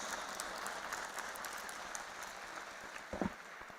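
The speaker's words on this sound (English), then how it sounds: "Please put your hands together and welcome with a round of applause Professor Dr. K.G. Suresh ji" Faint, distant audience applause welcomes a professor to the stage at a school of media and communication event. It is a soft, even patter of many hands that holds steady, with a few sharper claps near the end.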